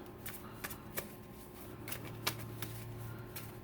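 A deck of cards being shuffled for a 1972 World Series tabletop Statis Pro baseball game, quiet riffles and snaps in several short bursts at close range over a low steady hum.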